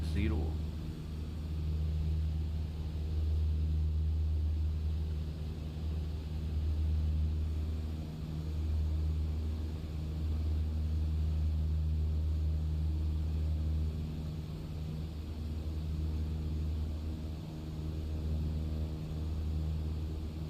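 A small mail plane approaching to land on a Shetland runway in a crosswind drones with a steady low engine hum and rumble, constant and fairly faint, under quiet cabin noise.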